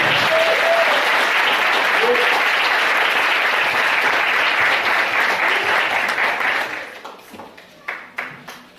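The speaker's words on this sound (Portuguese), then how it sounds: "Se você está nela, aplauda o Senhor." A church congregation breaks into loud, sustained applause during a worship service, the dense clapping holding steady for several seconds before thinning into a few scattered claps and fading out.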